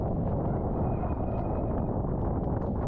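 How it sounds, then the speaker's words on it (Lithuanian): A strong headwind off the lake at the Plateliai mountain bike race buffets the microphone, a dense, continuous, loud roaring rumble that stays steady throughout with no talk. "didelis vėjas. Priešinis nuo ežero pusės, tai taip net atrodo pakilsi."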